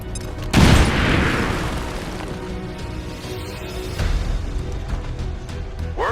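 A grenade blast in XCOM 2 booms loudly and broadly, followed by a rumbling tail and a second, lighter impact burst a few seconds later.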